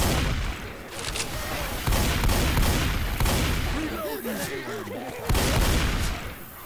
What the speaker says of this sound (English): Oh yeah, auto shotgun.